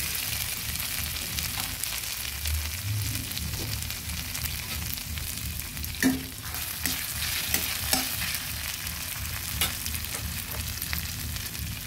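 Ground spices frying with ginger paste for a thin katla fish curry with drumsticks and potato, a steady sizzle with the scrape and clatter of stirring, a few sharp knocks, and no voices.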